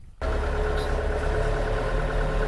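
Walk-behind tractor engine, a Scout 404S, running steadily at moderate revs while hilling potatoes in a field, a continuous close mechanical drone with no talking.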